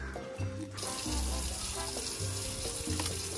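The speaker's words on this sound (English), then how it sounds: "Gagawin namin ni Onyok, we're going to wash this" Tap water runs steadily into a sink while pechay leaves from a backyard garden are washed, a constant broadband splashing with small handling knocks and no voices.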